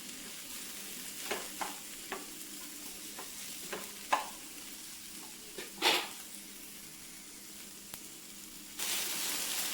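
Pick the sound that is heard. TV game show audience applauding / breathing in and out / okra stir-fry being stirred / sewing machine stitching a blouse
okra stir-fry being stirred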